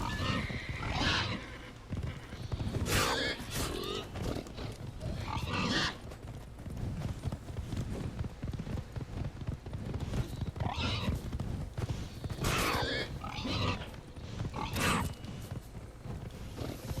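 Horse in a video game neighs and whinnies loudly several times over a busy, dense game soundscape, with repeated whinny bursts spaced across the scene.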